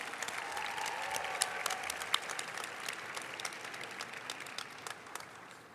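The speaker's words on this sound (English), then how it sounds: "Can we give these teams one more round of applause?" An audience applauds steadily for several seconds, a dense wash of many hands clapping at a moderate distance, with no voices standing out.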